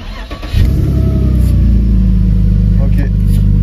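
A car engine turns over and catches with a loud, close rumble, then settles into a steady low idle.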